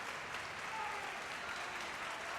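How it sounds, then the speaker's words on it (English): Concert hall audience applauds after a live 1974 Philadelphia Orchestra performance of Prokofiev's Alexander Nevsky cantata under Abbado, a faint, steady, distant wash of many hands clapping without letup. "In response to this applause"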